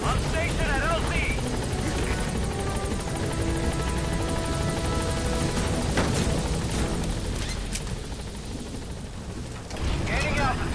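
The Pequod helicopter in Metal Gear Solid V arrives at a landing zone, its rotor thudding steadily and loudly through the scene while a radio voice talks and scattered game effects sound.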